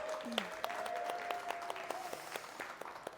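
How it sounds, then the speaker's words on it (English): Audience applause at a celebrity chef cooking demonstration, moderate clapping with sharp individual claps popping out, heard fairly faint with a voice speaking over it. "we have to give one more big round of applause"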